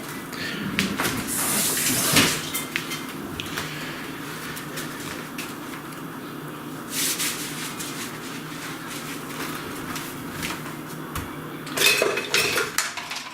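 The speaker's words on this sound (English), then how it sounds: "I just use a spoon, mash it up, and just kind of work it together" A spoon clinks and scrapes against a bowl while mashing avocado for guacamole, with irregular metallic taps and scraping across the whole span, some louder clatters near the start and end.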